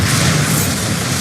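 The Bombarda explosion spell in Hogwarts Legacy erupts as a loud, dense, roaring blast that fills the whole short moment with broadband rumble and no clear decay, heard alone without talking.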